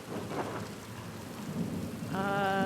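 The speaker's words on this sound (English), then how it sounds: "Some storm, huh?" Steady heavy rain with rumbling thunder in the video game Pentiment, a dense wash of downpour that swells louder near the end as a sustained tonal note enters.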